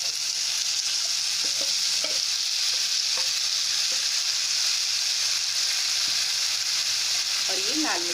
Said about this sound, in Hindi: अब इसमें डाल देंगे मेथी